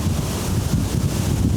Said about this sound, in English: Have a look at this wind.